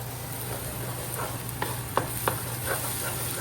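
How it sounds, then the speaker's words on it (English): Aromatics and vegetables sauté in vegetable oil in a pot, giving a steady sizzle under a low hum, with a few sharp clinks and scrapes of stirring near the end. "I'm going to start sauteing the aromatics and my vegetables over there"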